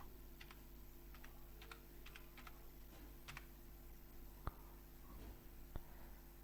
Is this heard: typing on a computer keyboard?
yes